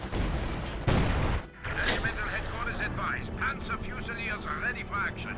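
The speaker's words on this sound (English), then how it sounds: "Lipton set up an artillery gun. And that was firing there." An artillery gun crew fires in the Company of Heroes 2 battle game during an urban fight, with a loud, booming blast and rumble at the start, then a broad mix of battle noise and chattering unit voices.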